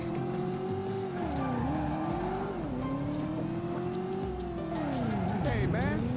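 Video game car weaving through a slalom in the Driver tutorial, its engine droning and pitch rising and dipping with each turn, tire squeals near the end, steady and close under a faint voice.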